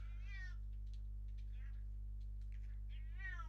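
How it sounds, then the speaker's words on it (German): A cat in the video game Loren The Amazon Princess gives a few drawn-out meows, one at the start and one near the end, with faint short chirps between them over a steady low electrical hum. "Hallo Katze."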